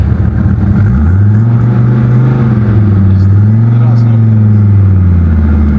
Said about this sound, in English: Mr.Gotdamnit showing him how to drive the Viper.